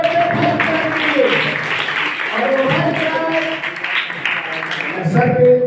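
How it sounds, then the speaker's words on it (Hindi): A group of children claps for their teacher, a steady rush of clapping mixed with their voices and chatter throughout. "एक बार तालियां बजा दो बच्चे"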